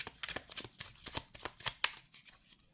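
A deck of tarot cards is shuffled by hand in a quiet room, giving a close, steady run of soft papery riffles and flicks with no talking.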